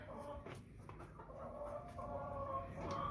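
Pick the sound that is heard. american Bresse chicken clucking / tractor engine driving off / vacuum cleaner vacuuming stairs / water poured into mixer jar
american Bresse chicken clucking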